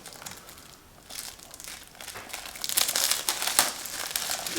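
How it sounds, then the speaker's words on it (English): New plastic shrink wrap is torn and peeled off an Astro Bot game case, giving close crinkling and crackling that grows louder and busier toward the end, with no talking. "I love opening the new plastic."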